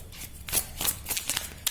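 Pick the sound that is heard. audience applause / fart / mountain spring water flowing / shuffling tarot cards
shuffling tarot cards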